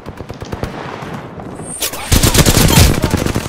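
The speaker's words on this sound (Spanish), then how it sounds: "Órale pues, juguemos a los balazos" Rapid bursts of gunfire in the video game Apex Legends crackle continuously, growing louder and denser toward the end, with a faint voice underneath.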